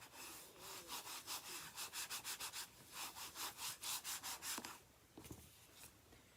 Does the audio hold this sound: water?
no